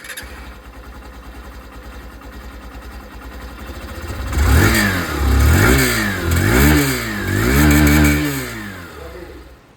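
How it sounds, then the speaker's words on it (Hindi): A Hero Super Splendor 125 Xtec motorcycle idles with a steady exhaust putter, then revs repeatedly in several loud rising-and-falling bursts, heard close and alone. "अब दोस्तों बारी बारी से दोनों ही बाइक की यहाँ पर जो एग्जॉस्ट साउंड है वो भी मैं आप लोगों को सुना दूँ।"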